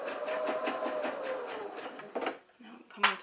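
A sewing machine stitches teddy bear fabric in a fast, even run of rapid needle pulses, stopping briefly before a short second burst, close up with a voice talking over it.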